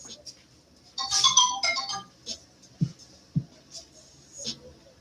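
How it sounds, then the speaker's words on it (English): A phone alarm sounds briefly as a short burst of bright electronic tones, near and fairly loud, followed by quiet taps and a person speaking. "My alarm going off."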